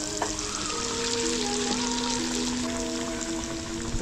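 Batter of maida and cornflour frying in hot oil for a homemade burger gives a steady, close sizzle with fine crackle throughout, alone with no voices.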